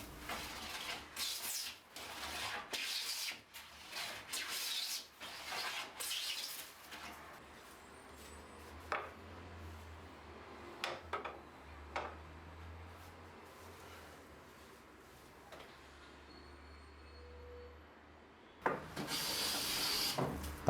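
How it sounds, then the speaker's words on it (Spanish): A wooden jack plane worked along the face of a wooden board, smoothing out earlier marks. Repeated rasping, scraping strokes come in bursts, loudest at the start and end, with faint birds chirping in the background. "sigo trabajando con una garlopa con la que quito las marcas del garlopín y termino de rectificar la cara de la madera"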